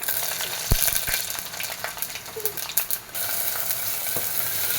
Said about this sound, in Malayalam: കുറച്ച് കടുക് ഇതാ കടുക് പൊട്ടി ഇതൊക്കെ ഇനി ഇട്ട് കൊടുക്കാം